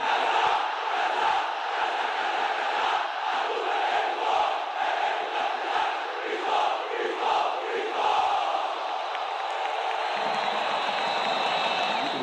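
A football crowd in the stands chanting its supporters' battle cry during Sport's 2008 title-winning season in Brazil, a dense sustained roar of many voices with rhythmic swells, steady and loud throughout.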